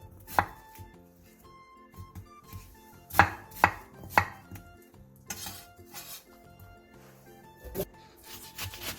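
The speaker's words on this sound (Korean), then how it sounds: "양파 1개, 사과 2분의 1개, 배 4분의 1개, 홍고추 4개를 갈기 좋은 크기로 큼직하게 잘라주세요" Knife chops through onion, apple, pear and red chili on a cutting board in scattered, uneven strikes, some crisp and loud, others soft, with light clinks of kitchen utensils between cuts.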